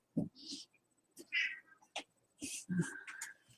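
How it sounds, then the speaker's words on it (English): A cat meows a few times in short, close calls, mixed with brief bits of a person's speech in a quiet room. "you meowing from?"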